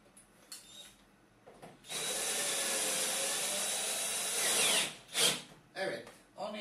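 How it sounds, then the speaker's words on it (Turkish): A cordless power drill drives a screw into a Bosch tumble dryer during maintenance: a steady whirring burst of about three seconds, close and loud, with brief clicks and short drill spurts before and after. "Bu vida şu elektronik kısmın altında kalacağı için bunu önce sıkıyoruz."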